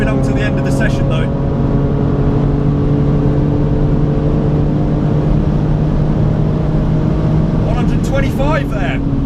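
A BMW Z4 engine pushed hard on a race track, droning loudly and steadily at high revs throughout, with a voice talking over it near the start and again near the end.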